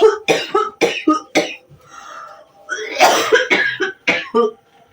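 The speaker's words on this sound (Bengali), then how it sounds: "তোমার কাশিটা কমেনি" A woman coughs repeatedly at close range, in two harsh bursts separated by a short pause.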